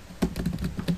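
Keys clatter on a computer keyboard while HTML code is typed, a quick uneven run of close, crisp clicks with no talking.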